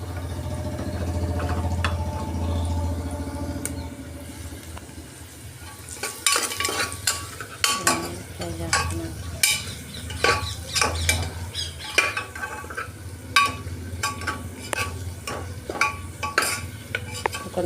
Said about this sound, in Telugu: కొంచెం ఫ్రై అయ్యాక వెజిటేబుల్స్ వేసుకుందాం